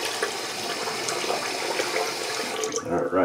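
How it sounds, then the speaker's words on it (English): Tap water running into a sink for a quick rinse after a shave, a steady broadband splash that fills the whole clip and eases off near the end. "Get a quick rinse in."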